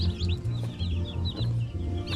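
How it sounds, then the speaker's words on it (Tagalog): Incubator-hatched mixed-breed chicks cheep in a dense, continuous chorus of high, rapid peeps, close and fairly loud, over a low steady hum. "Meron tayong 28 na mga sisiw."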